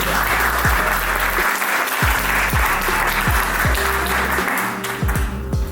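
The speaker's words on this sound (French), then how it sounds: "vous pouvez l'applaudir." Audience applause at a large French-language trading event in Paris, a dense continuous wash of clapping that stays loud for the whole stretch, with a strong low thumping beat underneath, probably music.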